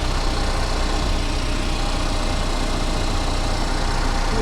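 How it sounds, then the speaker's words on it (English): A 2015 Cadillac ATS engine idles steadily after an oil change, a constant, fairly loud broadband rumble and hum close by with no talking. "Went ahead and turned the car on."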